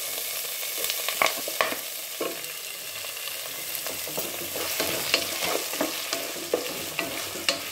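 Onion frying and being stirred in a pan for Mangalore-style prawn sukka, a steady close sizzle with frequent scraping spoon clicks and no talk.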